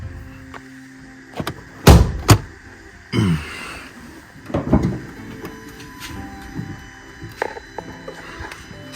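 The front bonnet of a Range Rover Evoque is opened: a few sharp, loud latch clunks and thuds close by, then a rattling lift, with quieter handling knocks after.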